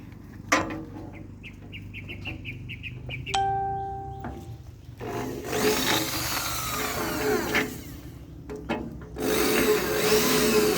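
A power drill bores paired holes while a tarpaulin floor covering is installed: two sustained, close whirring bursts of drilling, the second shorter, following a few thin tonal beeps.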